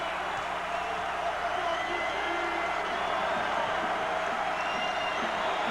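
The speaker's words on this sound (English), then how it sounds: "you're going to hear the crowd again now" Steady crowd roar filling an arena during a 2002 Xavier at Dayton men's college basketball game, a continuous broad wash of noise at even loudness with no breaks.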